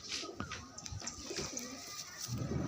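Pigeons kept in an old-bloodline loft coo in soft, overlapping throaty bursts, some low rolling calls and brief higher notes, amid a steady hum of background noise.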